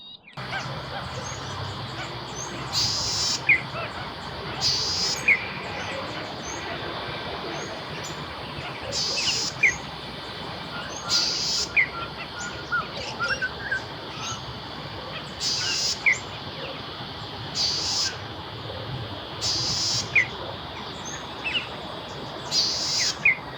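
A cisticola calls from a treetop, giving short, sharp bursts repeated roughly every two seconds over a soft, steady background of other birds and insects.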